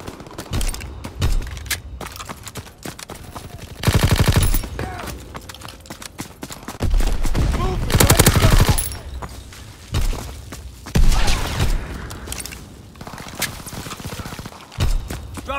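Rapid bursts of aircraft gunner machine-gun fire in the Call of Duty WWII video game, loud volleys separated by short pauses amid other battle noise.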